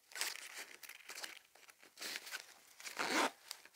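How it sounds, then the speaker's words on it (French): A zipper on a grey heathered fabric tote bag is pulled in several short, close rasping bursts with crinkly rustling of the fabric between them, fairly quiet with no talking. "Et ils ont la fermeture éclair."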